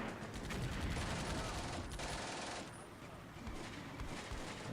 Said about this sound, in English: And my infantry are shooting at the half tracks.